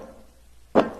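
One pitched-down basketball swish lands as a single low, thuddy percussive hit near the end, alone against a quiet background.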